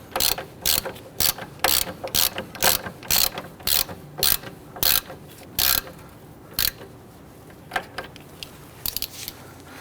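A torque wrench fitted with a crow's foot ratchets on the front brake caliper bolts of a 2011-2015 Kia Sorento, giving a steady run of sharp, close clicks in quick bursts, then a few scattered clicks toward the end, with no talking.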